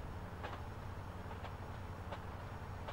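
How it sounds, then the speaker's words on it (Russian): Train ride in the online game Arizona RP, heard as a steady low rumble of rolling wheels with periodic faint clicks of rail joints, continuous and moderately loud with no talking. "Моя мечта сбылась, я сейчас поеду на поезде."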